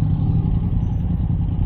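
A Benelli Leoncino motorcycle passes close by on a Kuala Lumpur street at night, a loud, brief, rumbling engine roar that holds steady for under two seconds.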